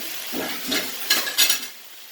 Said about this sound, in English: we just give them a quick stir